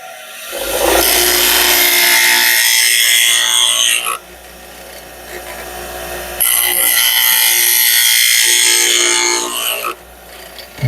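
A skew chisel for woodturning held against a sharpening grinder, giving two loud sustained grinding passes of about four seconds each, separated by a quieter gap of motor hum.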